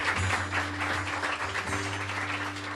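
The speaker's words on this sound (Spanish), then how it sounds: "Denle un fuerte aplauso al Señor." A church congregation at a Spanish-language worship service gives sustained applause, a dense wash of clapping that runs throughout.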